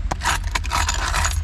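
A bunch of car keys jangles close by inside a Chevrolet Spark, a quick burst of bright metallic clinks and rattles lasting just over a second.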